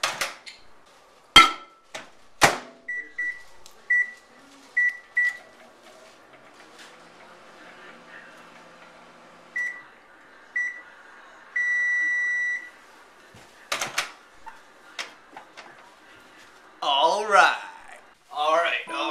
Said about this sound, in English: Now we just pop in the microwave for a minute.